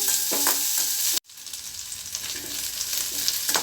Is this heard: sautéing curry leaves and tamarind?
yes